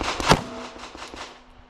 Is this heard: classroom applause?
no